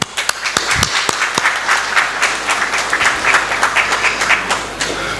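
Audience applause at a mushaira poetry gathering in Patna, a loud, sustained burst of many hands clapping close by, with a few sharper individual claps standing out at the start.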